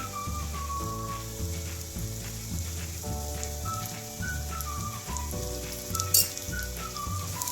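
A savory taro-stem pancake fries in oil in a pan with a steady close sizzle, partly covered by a melodic tune playing over it; no one speaks.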